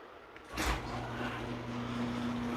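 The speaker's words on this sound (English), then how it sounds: "I gotta open the door" A big door at a maintenance job is pulled open with a short loud scrape and thud, followed by a steady low mechanical hum that continues to the end.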